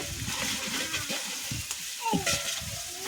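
Spices frying and being stirred in a pan for coconut rice, a soft sizzle with scraping stir strokes and light splashes, fairly close, with a voice talking over it.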